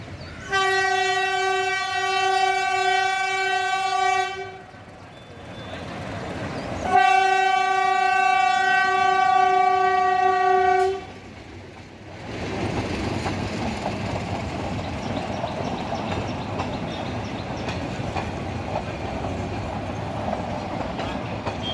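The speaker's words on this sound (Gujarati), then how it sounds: "સાસણગીરમાંથી પસાર થતી મીટર ગેજ ટ્રેન." A metre gauge train sounds its horn in two long blasts at Sasan Gir station, then rumbles and clatters steadily along the rails, fairly close.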